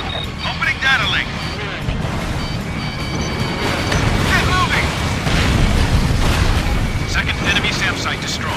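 A destroyed SAM site explodes in the Ace Combat Infinity flight combat game, a dense rumbling blast and booming roar that stays loud throughout under radio chatter and jet noise.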